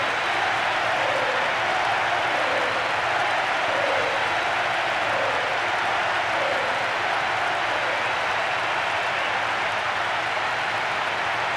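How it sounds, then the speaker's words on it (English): A capacity stadium crowd roars in the football video game PES 2012 on PlayStation 2, a dense, unbroken wall of cheering and chatter that stays loud throughout. "There is nowhere quite like this for noise, the capacity crowd getting behind their team."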